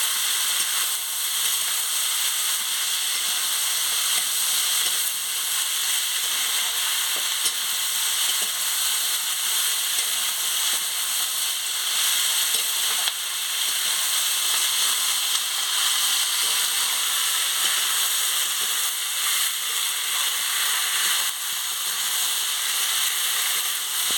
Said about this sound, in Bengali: আলুটা দিয়ে দিচ্ছি। দিয়ে ভালো করে আনাজটাকে নাড়িয়ে নিচ্ছি